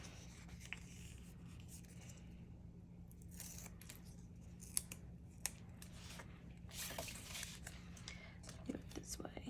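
Scissors trimming paper for a mini album, soft close snips and paper rustles at irregular intervals over a low steady hum, faint overall with a couple of sharper clicks.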